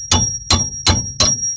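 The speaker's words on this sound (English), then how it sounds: "I just get my hammer, just give it a tap a few times." A hammer strikes the brake caliper mount of a Ford Fiesta Mk7 four times in an even rhythm, each close, sharp metallic tap leaving a thin ringing tone between blows.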